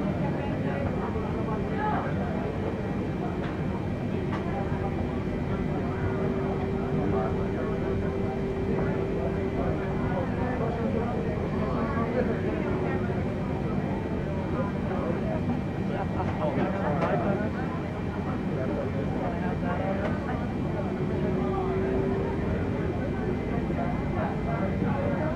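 A Boeing 747 taxiing at Incheon Airport, its jet engines giving a steady low rumble and whine for the whole stretch, with air traffic radio chatter heard over the noise.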